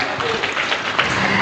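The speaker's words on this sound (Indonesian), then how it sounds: "mohon beri tepuk tangan yang meriah kepada Babang Mongol Stres" Audience in a prison hall at Cipinang applauding a comedian, a dense, steady wash of clapping from a large crowd, fairly loud throughout and without a break.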